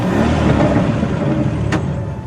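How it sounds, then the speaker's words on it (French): A car pulling up and parking in front of a manor in a LEGO Batman video game, a loud, close engine drone with a rumbling hum and a brief whoosh partway through. "Une voiture immatriculée à Philadelphie vient de se garer devant le manoir."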